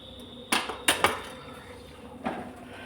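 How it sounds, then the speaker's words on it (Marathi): A metal kadai set down on a kitchen stove, giving a couple of sharp clanks followed by a lighter knock, close and loud in a quiet room. "इथं कढई तापायला ठेवली आहे"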